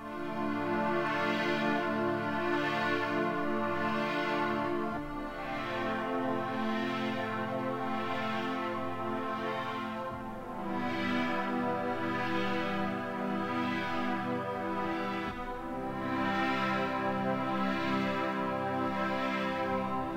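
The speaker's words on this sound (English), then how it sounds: "So there's one here called String Section." Soft String Section synthesizer pad from the Sonic Faction Sickness instrument plays slow, sustained chords that swell and change every few seconds, smooth and fairly quiet, with no voices.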